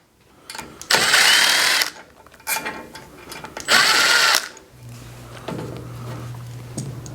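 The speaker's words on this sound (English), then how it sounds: "You're going to want to remove these two bolts on each side." Bolts on each side of a car hood being removed during a hood rack installation, heard as several loud bursts of a power tool whirring and rattling, separated by short pauses, followed by quieter mechanical clicks and a low hum.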